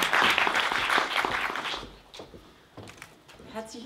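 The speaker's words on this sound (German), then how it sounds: "Begrüßen Sie auch mit einem Applaus die Präsidentin der Uni" Audience applause welcoming a university president at a media literacy network conference in Brandenburg, strong for about two seconds, then thinning out as a voice begins speaking.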